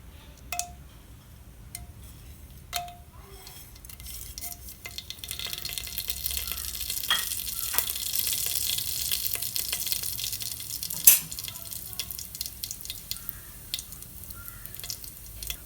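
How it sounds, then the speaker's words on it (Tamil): Soft crackling sizzle of cinnamon and fennel seeds frying in hot oil for mutton biryani, building to a steady hiss with occasional sharp pops and light clinks. "பட்டை சோம்பு எல்லாம் நல்லா பொரிஞ்சிருச்சு"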